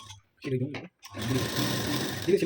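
A sewing machine stitches lining onto a blouse piece, with a short burst followed by a longer steady whirring run, close and clear, with a brief gap between them.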